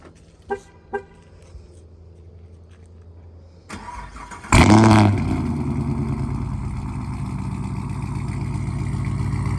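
A 2022 Chevrolet Camaro 2SS 1LE fires up after a few faint clicks and a brief beep, with a loud cranking roar that settles into a deep, steady idle close by.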